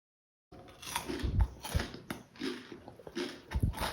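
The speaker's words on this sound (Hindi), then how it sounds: "आप मन सुन सकत हो संगवारी हो, मुर्रा लड्डू हर कत्ता कुरकुरा बन के तैयार हो हे।" Crunchy puffed rice murra laddu bitten and chewed close up, a run of crisp crackling bites and crunches in irregular bursts after a short silence, with no talking.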